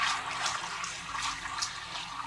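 Water is poured into an E3 electrocoagulation water treatment device, giving a soft, steady splashing trickle with small surges, fairly quiet and without speech.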